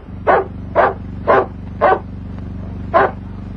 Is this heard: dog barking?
yes